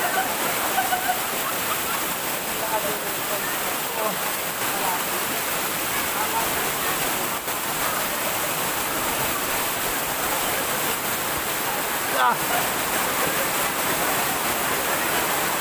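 Talon Pari waterfall in Bulacan roaring as a constant, loud broadband wash of falling water, steady throughout with no voices heard.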